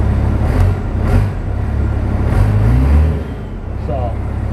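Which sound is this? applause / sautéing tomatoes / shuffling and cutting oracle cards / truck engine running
truck engine running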